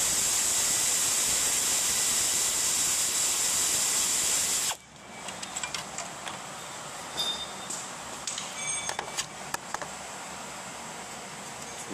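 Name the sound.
air ratchet loosening timing belt adjusting bolt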